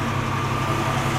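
A car engine with its idle turned all the way down, holding a steady low rumbling idle with headlights switched on, even and unchanging over a brief stretch with no talk.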